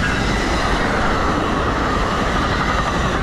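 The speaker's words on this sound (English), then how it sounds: "Another New Jersey Transit. Got a double decker." A New Jersey Transit double-decker commuter train rolls past close by, a loud, steady rumble and rush of wheels on rail without a break, no voices.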